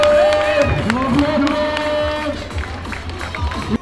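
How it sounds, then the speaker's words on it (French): A crowd at a weighted pull-up strength event cheers and claps for an athlete called Captain. Voices shout over scattered applause, with one short spoken word from a man nearby. "Un applaudissement pour Captain, s'il vous plaît."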